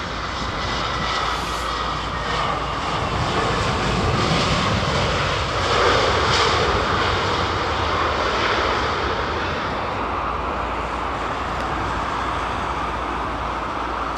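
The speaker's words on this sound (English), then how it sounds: "Listen to those Trents humming away, man." Airliner with Rolls-Royce Trent 800 jet engines at London Heathrow, giving a steady, loud broadband roar and low hum that swells slightly midway and holds throughout, with no talk.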